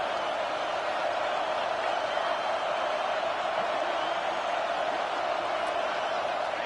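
Football stadium crowd roaring during a fourth-down play: a dense, even wall of cheering noise that holds steady throughout, with no single voice standing out.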